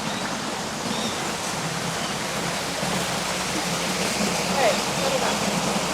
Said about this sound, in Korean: 물소리도 들리고, 네,